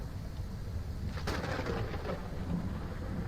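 Steady rain hisses in the game Ranch Simulator, with a soft rumble of thunder swelling briefly in the middle, all faint and continuous with no talk.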